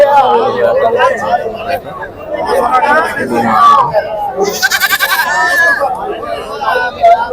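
Large male goats bleat at the Pebbair livestock market in festival season, their calls rising over a busy crowd's constant chatter and nearby voices talking loudly.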